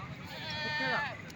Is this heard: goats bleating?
yes